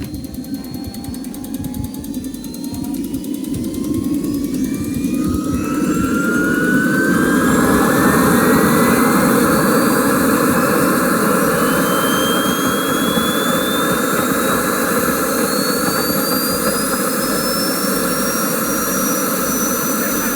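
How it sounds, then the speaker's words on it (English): A jet-powered glider's jet engine runs loud and steady, its turbine whine climbing in pitch as it spools up over a constant roaring rush, with no talking. "It's a jet-powered glider!"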